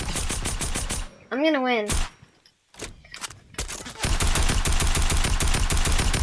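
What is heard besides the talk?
gunfire in a video game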